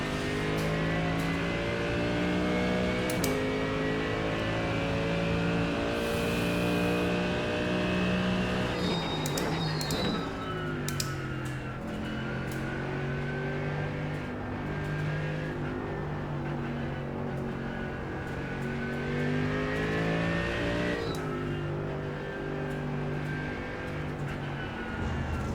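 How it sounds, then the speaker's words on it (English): A 2020 Mercedes GT3 race car lapping a track in iRacing, its engine droning steadily and loudly with rising revs and sharp drops at gear changes, running continuously throughout. "I just want to do 2 laps, then I want to watch the car as it goes around the track"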